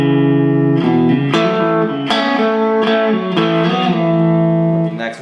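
Electric guitar chords in a rhythm style, staying on one chord while moving through voicings up the neck, several ringing strums played alone, loud and close.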